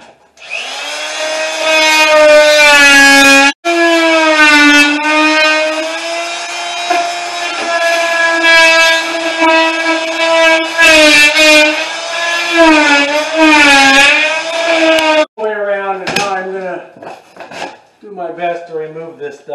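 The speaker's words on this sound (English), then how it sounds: "I'm using what's either called a multi-tool or a vibration cutter" Oscillating multi-tool cuts into ceiling drywall with a loud, close, high buzzing whine that wavers as the blade bites. Brief pauses come near the end.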